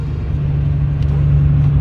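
A truck engine rumbles loudly and steadily at close range as the vehicle moves slowly along a muddy track in Morocco, with a deep, constant drone and a slight rise in revs near the end.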